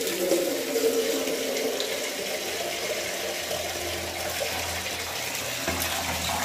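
Cold tap water gushes steadily into a container, a continuous close rushing and splashing that stays even throughout, with no voices.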